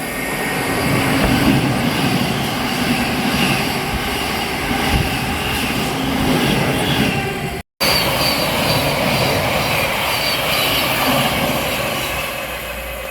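A train rushes through Welham Green station on the East Coast Main Line, a loud, steady roar of wheels and motor that holds level throughout, broken only by a split-second dropout midway.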